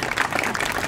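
Applause from an audience at a live stand-up comedy show, a brief dense burst of clapping filling the moment.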